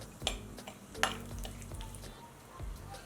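A quarter teaspoon of cumin and dried red chillies fry in about a teaspoon of hot oil, a low crackling sizzle punctuated by a few sharp spatula taps against the pan.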